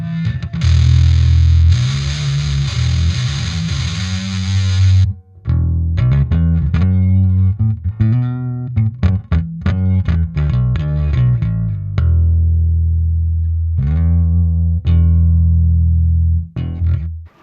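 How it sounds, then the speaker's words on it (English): Bass guitar through a Boss ME-20B multi-effects pedal on distortion, heavily distorted, playing a sustained chord, then choppy riffing with short stops and a ringing held note near the end, loud and close. "say I'm on my distortion channel"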